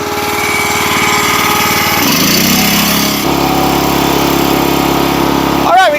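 The gasoline engine on a Wolfe Ridge 17 RS wood splitter revs up from low idle, its steady mechanical drone rising in pitch in two steps and then holding at a higher, loud, even roar.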